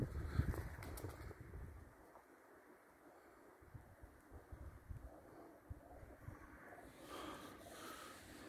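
Pigeons flutter and shuffle nearby at a loft, with bursts of wing flapping and soft low sounds over faint wind.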